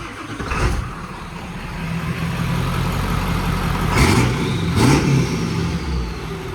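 A 1997 Ford F-250 heavy duty pickup with the 7.3 Power Stroke turbo diesel runs with a steady low clatter, with two sharp bursts of revving rising over the idle, heard close up with no talking.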